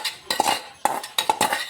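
A metal spoon clinks and scrapes against a pot as moong dal and rice khichdi is stirred, with four or five quick, bright strokes close up and no speech.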